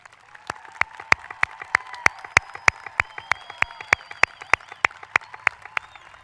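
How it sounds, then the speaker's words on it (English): Clapping for graduates at a 2020 high school graduation, mostly a single pair of hands striking in a steady, evenly spaced rhythm over a thin, faint crowd wash. "Let's give our graduates another round of applause."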